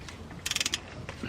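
A caliper screw on a BMW brake is turned out with a 6mm Allen bit, a quick burst of rapid ratcheting clicks followed by a softer click or two.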